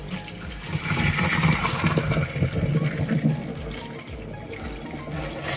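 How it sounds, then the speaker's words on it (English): Hot water pours off freshly cooked noodles into a sink, a steady, close splashing rush that continues throughout. "We're gonna go ahead and drain the hot water out"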